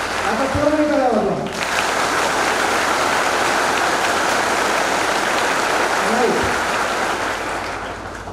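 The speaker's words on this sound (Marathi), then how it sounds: "आता पोरांनी टाळ्या वाजवा." Boys in a student audience at a Baramati science academy event applaud, a thick, even stretch of clapping that starts after a short spoken phrase and slowly fades near the close, with another brief voice midway.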